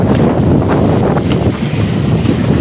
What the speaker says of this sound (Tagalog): Oh, malakas yung hangin, no?